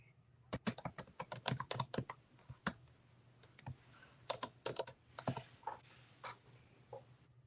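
Rapid clacking keystrokes on a computer keyboard, loud bursts of typing in quick uneven runs with brief pauses, close up over a faint low hum.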